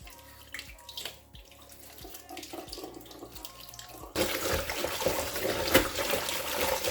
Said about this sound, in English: Wash the leafy vegetables and the beef.